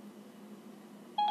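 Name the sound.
phone dialing tones as Siri places a call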